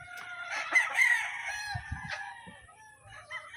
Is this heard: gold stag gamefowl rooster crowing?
yes